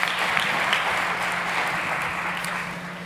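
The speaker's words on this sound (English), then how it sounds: "Big applause for Jorge." Audience applause fills a conference stage at the South Summit 2022 event: a steady, dense wash of clapping that holds evenly for the whole stretch and tapers slightly at the end.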